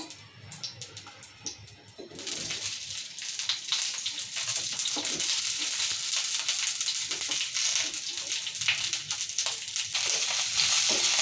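Green chillies fry in oil in a pan for an ivy gourd chutney. After a short quieter start, a loud, continuous crackling sizzle builds up and holds steady, dense and close, with no voices.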